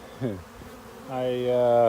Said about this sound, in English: But all these bees right here,